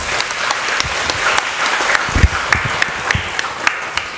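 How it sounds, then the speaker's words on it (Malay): Applause from a seated audience during a Dharma talk at a Buddhist vihara, a steady bed of clapping with sharper individual claps popping out near the front, fairly loud and continuous without speech. "Jadi tepuk tangan juga buat Licin Sangse."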